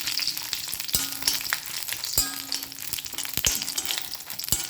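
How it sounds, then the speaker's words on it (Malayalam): Curry leaves fry in hot oil with a steady dense sizzle and crackle, punctuated by a few sharp pops and spatula taps, close and continuous without talk. "കറിവേപ്പില നന്നായിട്ട് ഫ്രൈ ആയിട്ട് വരുമ്പോൾ നമുക്ക് സ്റ്റൗ ഓഫ് ചെയ്ത് കൊടുക്കാം"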